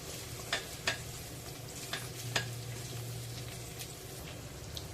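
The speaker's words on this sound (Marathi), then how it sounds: "शेवग्याच्या शेंगा घालून घेऊया शेवग्याचे शेंगा न उकडताच घातलेल्या आहेत त्यांना एक ते दोन मिनटं या कांद्यामध्ये परतायचे आहेत" Drumsticks sautéing with onions in a pan for drumstick pulao: a steady, soft sizzle with a few light scraping clicks from stirring, and no talk.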